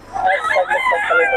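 A young rooster (stag) crows once, a single close, ragged cock-a-doodle-doo that fills the short moment.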